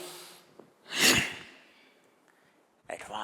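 A single forceful yoga inhalation, a loud breathy rush of air swelling and fading over about half a second, with quieter breath noise before and another sharp breath burst near the end.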